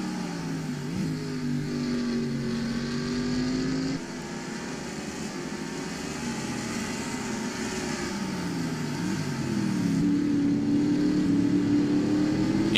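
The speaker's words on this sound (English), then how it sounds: "these guys are really pushing their cars on these starts and restarts" Race cars accelerate at Sonoma Raceway in a racing video game. Several engines rev and climb through gears in overlapping waves, and the field grows louder toward the end with no voices.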